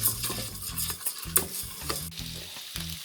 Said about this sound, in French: Je vais mettre de l'huile d'olive là aussi, bien remuer pour que le riz soit bien imbibé de cette huile.